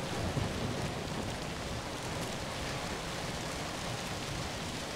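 Steady rain falls in the zombie video game ZOMBI, a dense even wash of noise with no breaks, moderately loud throughout.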